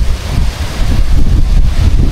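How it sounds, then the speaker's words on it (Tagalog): Strong gusts of wind buffet an outdoor microphone during drizzly weather, a loud, rough rumbling roar that surges and dips without pause, with no one speaking. "bumubugso na naman ang hangin"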